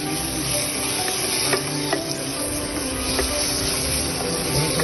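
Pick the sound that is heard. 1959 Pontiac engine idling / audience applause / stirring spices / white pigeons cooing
stirring spices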